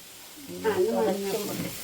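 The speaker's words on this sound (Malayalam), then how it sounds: "അങ്ങനെ അമ്മ ഇളക്കി മറിച്ചോണ്ടിരിക്കുകയാണ്" Chili powder fries in a pan while being stirred, a soft hiss and sizzle beneath a voice that comes in partway through and carries on to the end.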